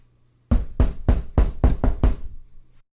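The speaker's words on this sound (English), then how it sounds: "There was a pounding at the Macintosh door." Seven heavy knocks pound on a large oak door as an audiobook sound effect, coming in an even, forceful series with no voices, then stopping.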